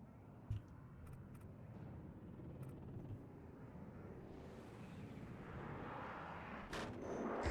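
Enemy anti-aircraft fire in a video game mod featuring flying ships and giant tanks rumbles as a low, continuous barrage with scattered sharp cracks. It swells louder toward the end, with no talking.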